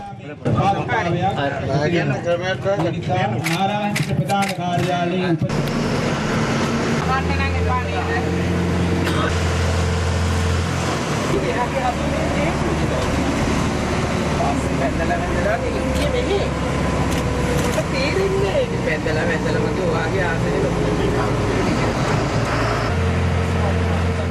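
A new bus tours Ratnapura town with transport officials aboard, its low, steady engine hum running continuously under a busy mix of voices and background sound.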